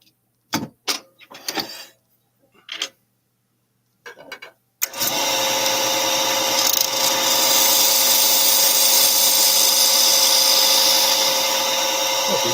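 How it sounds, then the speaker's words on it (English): A wood lathe turns a bowl while the tenon is cut off the bottom, first a few scattered knocks and scrapes, then a steady loud rasping cut of tool on spinning wood for several seconds. "I'm just taking the tenon off."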